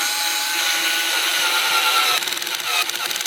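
A power screwdriver whines steadily and close while driving screws into a budget kitchen wall cabinet, then switches to a rapid rattling pulse as the clutch slips near the end.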